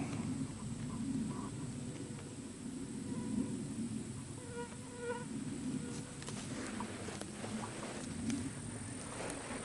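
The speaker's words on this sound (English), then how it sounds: "These mosquitoes are getting ready to carry me away." Mosquitoes buzz in a swamp, a faint, thin insect whine over a steady outdoor background hum with scattered small rustles.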